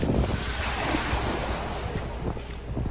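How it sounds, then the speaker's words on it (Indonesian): Small ocean waves wash steadily onto Malibu beach, a continuous close surf roar with light wind buffeting the microphone throughout. "Jadi di sini ombak agak kecil ya."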